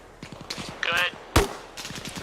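Gunfire from the Arma Reforger military game: several sharp reports, one loud crack standing out among quicker shots, heard amid radio chatter and talking.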